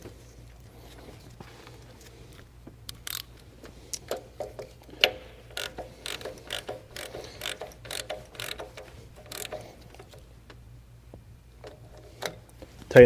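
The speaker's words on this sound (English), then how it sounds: "Tighten it down with the ratchet" Ratchet clicking in short bursts while tightening a new PCV valve into the valve cover of a Chrysler 2.4L Multiair engine, close and fairly quiet, with pauses between strokes.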